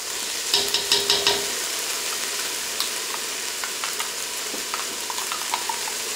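Chopped garlic frying in a pan for vegetarian chili, a soft, steady sizzle close by, with a few clinks of utensil on the pan near the start and light stirring taps later.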